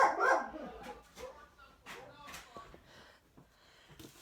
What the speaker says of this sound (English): the dogs are doing their thing